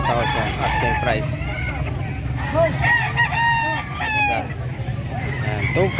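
Chickens clucking with roosters crowing repeatedly at a San Carlos City livestock market, several birds close by over a steady crowd murmur, with people talking in the background.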